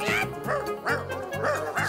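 Cartoon dogs barking and yipping in a children's animated show, a rapid run of loud, close barks repeating without pause across the whole moment.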